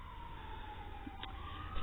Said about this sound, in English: If you're hearing the sirens behind me, we're not too far away from the main road